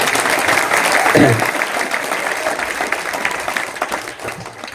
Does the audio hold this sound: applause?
yes